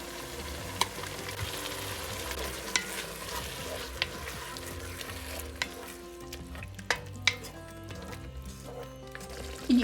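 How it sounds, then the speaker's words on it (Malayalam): Onion with crushed green chilli and ginger sautéing in a pot for Kerala-style mutton biryani, a soft, steady frying hiss under irregular scraping and tapping of a stirring spoon, faint and close, with a low background hum. "സബോള ഒരു 3-4 മിനിറ്റ് ഒന്ന് വഴറ്റിയാൽ മതി"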